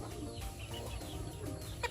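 A hen clucks softly in short, repeated calls close by, with light farmyard noise around it.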